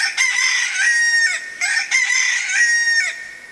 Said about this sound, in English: And immediately a cock crowed.